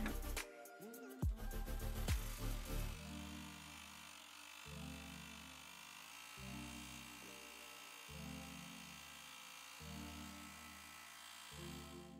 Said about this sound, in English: So I'm gonna click go, and now it's gonna embroider the gold part.